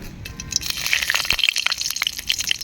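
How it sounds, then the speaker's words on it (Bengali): Whole cumin, dried chillies and whole garam masala tempering in hot oil, close crackling pops and spitting over a busy hiss, irregular and lively throughout, no voices. "ওই তেলে ফোড়ন দিয়ে দেবো গোটা জিরে, শুকনো লঙ্কা, গোটা গরম মশলা"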